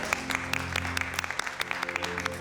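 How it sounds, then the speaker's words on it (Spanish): A small crowd at a Spanish-language event claps steadily for a few seconds, with sharp individual claps standing out in a modest round of applause. "Un aplauso, por favor."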